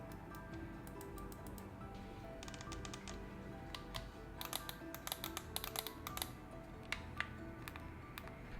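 Buttons on the side of a Scuf Envision Pro gaming controller click in quick, irregular bursts, close up and crisp against a quiet background, with short pauses between runs of presses.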